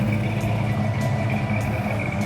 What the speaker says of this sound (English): It's idling around 500 RPM and just sounds great.